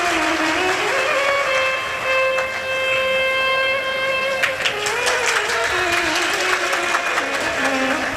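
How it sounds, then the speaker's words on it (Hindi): An audience at a live Shiv Mahapuran katha in Sehore claps loudly for a boy kanwar pilgrim who walked from Ashta. The dense applause swells over sustained devotional music. "एक बार जोरदार ताली बजाओ इस बालक के लिए"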